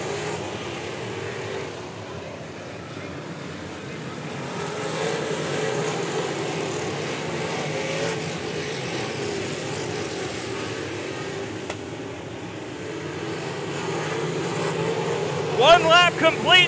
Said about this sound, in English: 90 minutes of figure eight racing at the Indianapolis Speedrome.